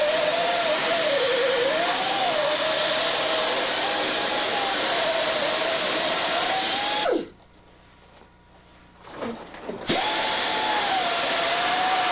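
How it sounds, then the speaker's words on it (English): A drill bores into a coal seam deep in an old mine. Its high whining drone runs steadily and loudly, stops abruptly for a few seconds of near quiet with a faint rattle, then starts again and keeps running. "I noticed while you're drilling the coal, there don't seem to be a lot of dust coming out."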